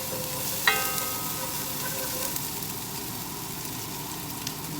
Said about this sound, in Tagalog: Ilagyan natin yung ginger.